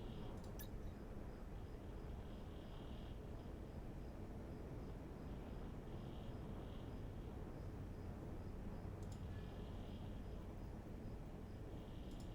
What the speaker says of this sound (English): Yeah, it's just the sound of planes.